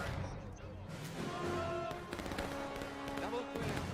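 Musket volleys crackle from a Civil War battle line in the War of Rights game, a scatter of sharp overlapping shots near and far, heard under shouting voices.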